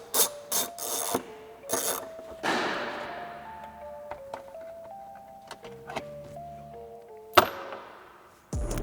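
A hand ratchet removing bolts at the back of the frunk on a Tesla Cybertruck, quiet clicking pawl strokes and metallic taps with a few sharp knocks, close up in a calm workspace without speech.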